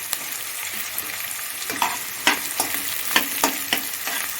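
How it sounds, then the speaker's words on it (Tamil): Sautéing with green chillies for a spicy goat head curry: close, steady frying sizzle broken by repeated scraping stirs of a utensil against the pan. "இது கொஞ்சம் வதங்கட்டும். பச்சை மிளகாயும் போட்டுக்கலாம்."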